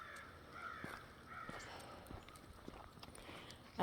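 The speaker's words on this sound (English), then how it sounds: "the crows are upset" Crows caw repeatedly at moderate distance on a quiet fall morning, with a few scattered calls over light footsteps during a dog walk along a road.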